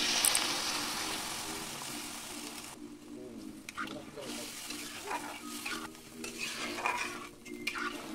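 Spice paste for a banana flower curry is stirred and sautéed in a pan, with utensil scrapes and clinks over a soft sizzle that fades and returns; faint background voices are heard.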